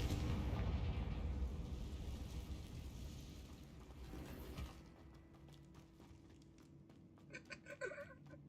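A Confringo fire spell bursts in Hogwarts Legacy inside an underground grave room, a loud rumbling blast that decays over several seconds into a quieter hum with faint crackles near the end.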